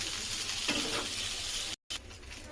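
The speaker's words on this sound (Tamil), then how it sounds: "இங்கிட்டு வெண்டைக்காய் வதங்கிக்கிட்டு இருக்கு." Okra sautés in a pan with a steady bright sizzle, broken by a short scrape of stirring midway and a brief dropout near the end, no one speaking.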